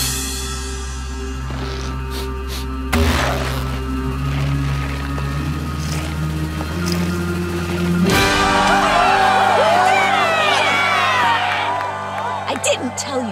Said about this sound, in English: I didn't tell you to clap.